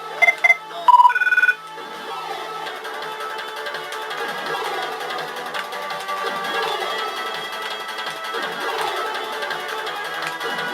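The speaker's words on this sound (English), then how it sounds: "My phone rings or I get a message." A mobile phone ringtone chirps in a brief burst of electronic beeping tones at the start, then fades under steady background game sound.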